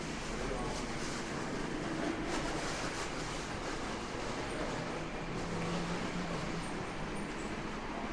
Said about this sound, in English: I'm going to catch this loco again, just follow it up and round the track. See as it climbs up the hill.